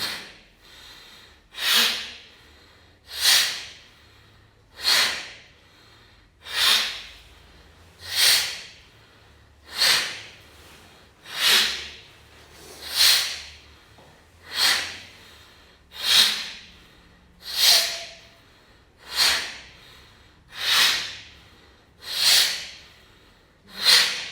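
Alternate-nostril breathing exercise: about fourteen loud, evenly spaced breaths close to the mic, each a broad airy rush through the nose, repeating every second and a half with near silence between.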